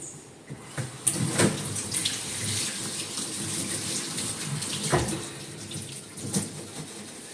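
Tap water runs steadily into a sink while arugula leaves are washed, a continuous splashing gush with occasional louder spatters, close by and with no talking.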